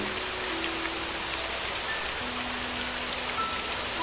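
Rain falls steadily on a dark night, with a dense, even hiss of drops hitting surfaces, soft and continuous without a break, in the style of a cartoon sound effect.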